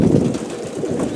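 Young pigeons in a loft coo in soft, low, throaty pulses, close and fairly loud, with a gentle rustle underneath and no talking.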